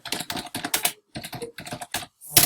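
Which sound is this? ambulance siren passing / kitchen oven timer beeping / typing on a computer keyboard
typing on a computer keyboard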